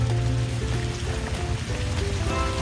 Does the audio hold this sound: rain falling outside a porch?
yes